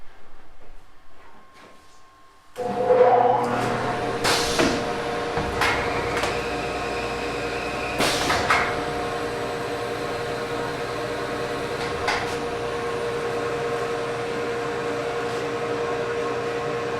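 An automatic screen printing press starts up and runs with a steady mechanical hum, punctuated by clanks and knocks as the machine cycles, loud and close with no speech.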